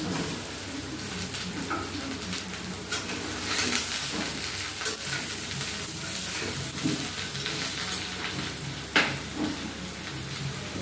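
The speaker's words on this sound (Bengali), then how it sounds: "আলুটা একটু ভেজে নেবো ভালো করে" Potatoes and bottle gourd frying in a pan, a steady soft sizzle with occasional stirring scrapes and one sharper clatter, close and continuous without talk.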